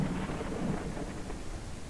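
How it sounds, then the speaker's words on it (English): A thunderstorm in the farming game Ranch Sim, with a low, faint, rolling rumble of thunder over steady rain. "Oh, I love the thunder sound."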